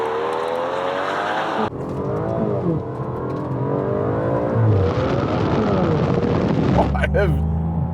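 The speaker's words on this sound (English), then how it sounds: "Oh, a little bit of wheel spinning there off the line." A V12 Aston Martin launches off the line in a drag race with brief wheelspin, the engine roaring loudly and climbing through gears as excited talk carries over it.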